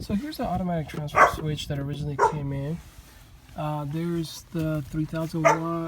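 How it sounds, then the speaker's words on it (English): A dog barks repeatedly in short bursts close by, overlapping someone talking steadily. "Sorry for the barking, guys."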